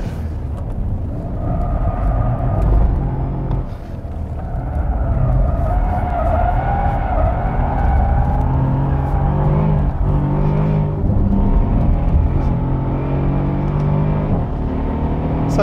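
A Mercedes-Benz SL63 AMG skids through a corner with its rear sliding out, the big engine revving hard in a loud, continuous roar with tire scrub layered throughout.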